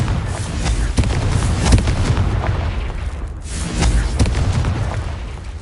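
Confringo fire-blast spells in Hogwarts Legacy, a run of heavy booming blasts and thuds repeating over rumbling low-end game noise, loud and close with no talk.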